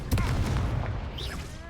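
Confringo explosive spell blast in the Hogwarts Legacy video game, one sharp booming burst at the start that fades into a rumbling tail with chiming magical effects.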